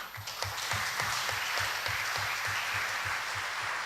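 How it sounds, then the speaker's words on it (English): Applause from new students at a college induction programme in India, a steady mass of clapping with a few distinct, rhythmic louder claps pulsing through it at a moderate level. "give yourself a big round of applause"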